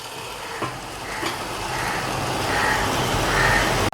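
Andhra chicken curry cooking in a covered pan over lowered flame, a steady close hiss of sizzling and bubbling that grows slightly louder, ending with a brief clatter.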